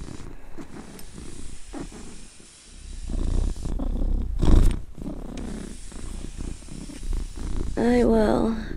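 A voice imitates a cat's purr with a rumbling, breathy drone that swells and fades, followed near the end by a brief wavering vocal sound.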